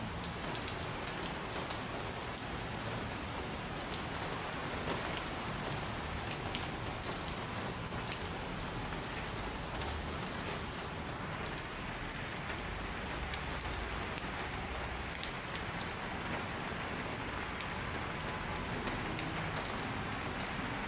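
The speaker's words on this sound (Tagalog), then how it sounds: "Marami na naman natuwa dito sa ating ulan" Steady, dense rain pours over Manila Bay on a June afternoon, a continuous loud hiss of drops on surfaces with no break for the whole stretch.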